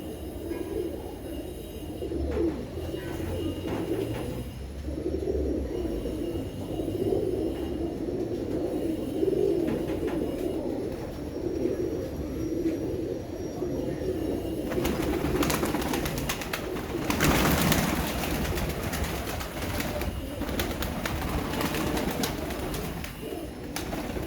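Steady low cooing from several large white pigeons fills the space, continuous and close, with a rougher rustling noise rising near the end.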